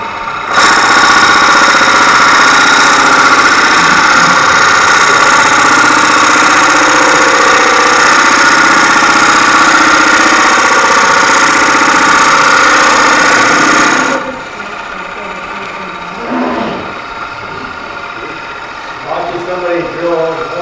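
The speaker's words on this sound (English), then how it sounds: "Watching somebody drill all the holes." A drill boring holes in a metal workpiece at a club workshop meeting, running steadily loud and close for about fourteen seconds before stopping, with people talking faintly afterward.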